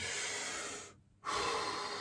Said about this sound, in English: You can see I'm breathing down here,